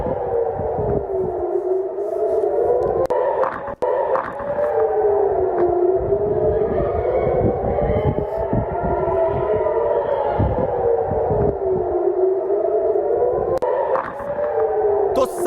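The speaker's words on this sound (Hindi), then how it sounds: "तो सायरन बज रहे हैं लगातार" Air raid sirens wail continuously in Tel Aviv during a ballistic missile attack, their rising and falling tones overlapping loudly and steadily throughout, with a brief dip partway through.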